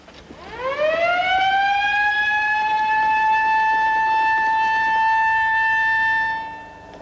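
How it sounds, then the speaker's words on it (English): A siren winds up from low to a high sustained wail, holding steady for several seconds before cutting off; loud and alone. "Sound the alarm."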